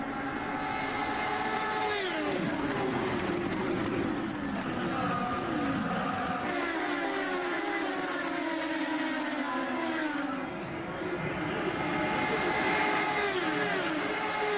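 An IndyCar field at the 2011 Milwaukee 225 oval race surges on a restart, engines rising and falling in overlapping high-pitched whines that sweep up and down continuously and loudly throughout, with commentary voices mixed in.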